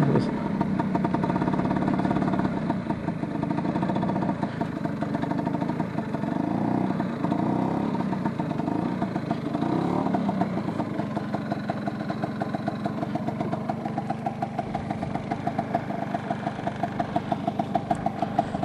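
A Vespa P200e 200cc two-stroke scooter idles at a farm, a steady close putter with a fast uneven pulsing beat, with a person talking over it.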